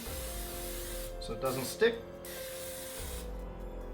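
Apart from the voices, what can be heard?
cooking spray sprayed onto hot waffle iron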